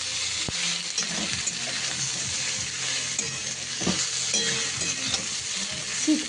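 Vegetables sizzle steadily in a hot pan as a Bengali chorchori of beans, eggplant, radish, cauliflower stems and potato fries, with a few stirring scrapes along the way. The sound is close and continuous, with no talking.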